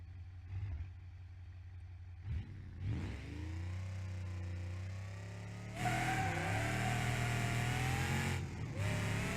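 An engine in a BeamNG.Drive drag car revs in short blips, then winds up into a sustained rowdy roar with gritty tire noise layered on top, loud and near, no talking.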